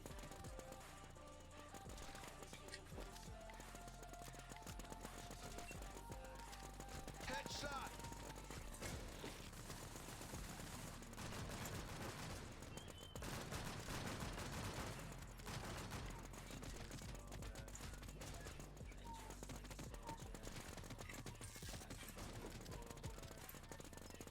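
Sustained automatic gunfire from the zombie survival game WarZ, long rattling bursts that run almost without pause, with game sounds and men chatting underneath, fairly faint overall.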